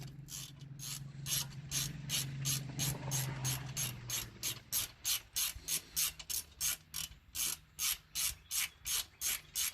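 A ratchet wrench removes 17 mm rear brake caliper bolts on a Subaru Forester, giving a long run of loud, evenly spaced ratcheting clicks up close, with a low grinding undertone early on.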